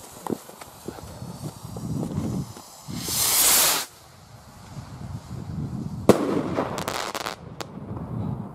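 A firework whooshes with a bright hissing burst, then several sharp crackling bangs follow in quick succession, set against faint outdoor background noise.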